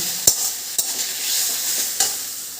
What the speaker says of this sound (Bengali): এবার মাছের মাথাটা ভালো করে শাকের সঙ্গে আমি মিশিয়ে নিয়ে খানিকক্ষণ রান্না করে নেব।